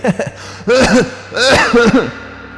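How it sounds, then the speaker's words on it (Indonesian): An old man gives several rough, raspy coughs and throat-clearing grunts in quick succession, close and loud, in a low gravelly voice. "Maaf, kakek batuk."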